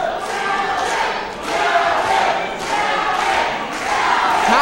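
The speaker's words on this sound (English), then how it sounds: "This crowd getting behind, chanting Calvin" A wrestling crowd chanting "Calvin" at a show in West Newton, the chant rising and falling in repeated waves across the space.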